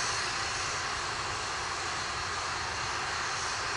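Atlas rocket with an RD-180 engine during launch, a steady broadband roar filling the whole range, loud and continuous with no voices over it.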